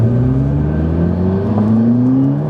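A McLaren supercar pulls hard under acceleration, its turbocharged engine note climbing steadily in pitch with a loud, continuous roar and whir, close and unbroken for the whole stretch.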